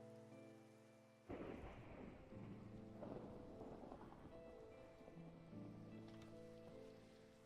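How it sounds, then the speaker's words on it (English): A thunderstorm with steady rain pattering on surfaces and rolling, rumbling thunder that breaks in loudly and keeps grumbling, no voices present. "Oh, that's a thunderstorm."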